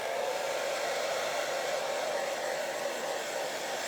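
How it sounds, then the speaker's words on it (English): A hair dryer on its cool setting blows steadily to dry a freshly pulled gelli plate magazine image transfer print, a constant near whooshing hiss that stays loud and even throughout with no voices. "I'm just going to get my hairdryer with some cool air on it to dry that."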